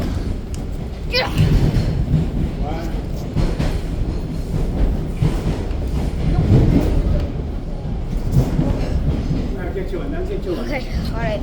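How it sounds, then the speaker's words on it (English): A Toronto TTC Line 1 subway train rumbles steadily from inside the car near Royal York station, with rhythmic wheel clatter and a few squeals while passengers talk over the noise. "we're on the subway train"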